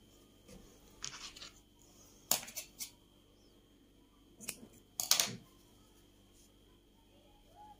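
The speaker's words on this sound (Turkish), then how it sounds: "Bir zincir çekiyorum ve ipimi kesiyorum." Scissors snip yarn during amigurumi crochet work, a few faint, crisp clicks close by, scattered across a quiet room with soft background hum.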